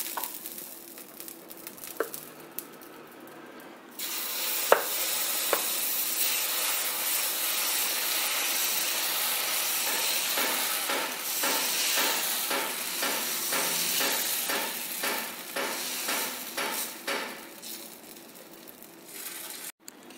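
Water splashed onto an overheated dosa griddle stone bursts into a loud, steady sizzle with hissing steam, crackling on for many seconds before easing slightly, with no one talking.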